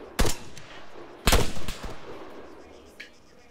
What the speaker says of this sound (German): Alter, wie viele Schüsse sind das?